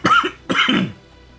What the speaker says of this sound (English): I still have a wee bit of a tickly cough.